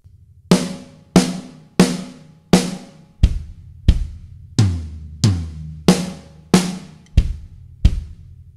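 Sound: linear drum fill, parts one and two combined

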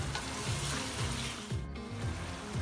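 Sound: chicken being sautéed with green chilies in a pan

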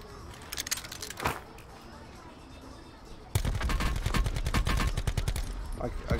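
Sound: gunfire in Call of Duty Blackout video game

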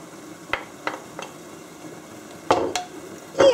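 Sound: smoked bacon frying in a little oil

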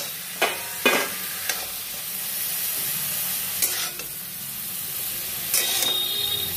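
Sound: frying and stirring potatoes with spices in a pan

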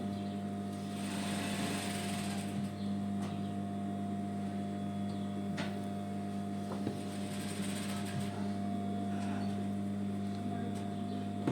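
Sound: sewing machine stitching sweatshirt fabric

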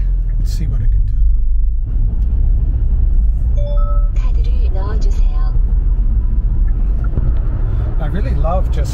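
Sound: Hyundai Casper engine kicking down in sport mode

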